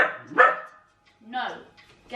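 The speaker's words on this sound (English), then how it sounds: "the dog's trying to join in with the class" A dog barks twice in a room during a home exercise class, sharp close barks with a whimpering yip, a voice speaking between them.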